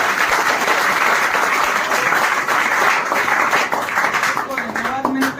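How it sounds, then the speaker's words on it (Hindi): Loud, dense applause from an assembled crowd honoring the staff of a nursing assistant training academy, steady clapping that eases near the end as a voice begins underneath. "इनके लिए जोरदार तालियां।"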